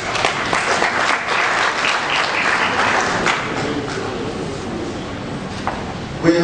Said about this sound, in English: We have to clap ourselves for this.